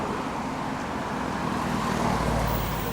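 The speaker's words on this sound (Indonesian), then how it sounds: "Di Batam tuh banyak sekali mobil." Steady traffic noise from many cars on a busy Batam street near Grand Mall, a continuous roadway rumble with a vehicle swelling closer toward the end, no talking.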